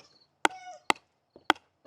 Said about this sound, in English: I'll bop a couple paddles just so you can get a feel for what the sound looks like.